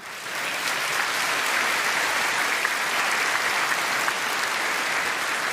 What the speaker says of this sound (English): Please, ladies and gentlemen, another round of applause for Scott Woodhouse and Tina Goodell